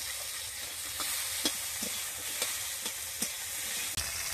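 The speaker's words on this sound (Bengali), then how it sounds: "আম দেওয়া তো ভালো করে নাড়বো" Mango pieces being stirred in a frying pan for a sour mango and snakehead fish curry, with a steady oil sizzle and repeated soft scrapes and taps of the spoon against the pan.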